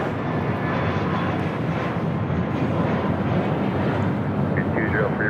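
An American Airlines jet takes off from runway 25 right at LAX, its broad engine roar loud and unbroken, with faint voices just audible beneath it.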